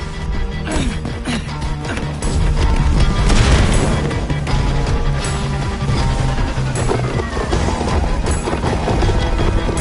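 Fireworks go off in the Minecraft Story Mode video game, with a continuous loud barrage of booms and crackling bursts mixed into busy game action.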